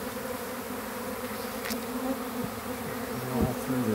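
A honeybee swarm in Baltimore City hums in a dense, steady drone close by, with individual bees buzzing past now and then over the continuous swarm noise.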